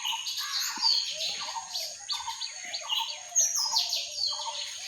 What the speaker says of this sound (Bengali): পাখির ক্যাচার ম্যাচার ডাক শুনতে অনেক ভালো লাগে